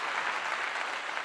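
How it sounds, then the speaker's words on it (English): A crowd applauds at a post-game press conference after a college football win, a dense, even patter of clapping filling the room for a short burst. "Let's clap it up."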